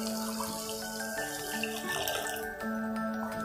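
Half a glass of water is poured into a simmering cherry tomato gravy in a pan, a steady trickling splash with ringing tonal overtones, continuous for a few seconds without talk.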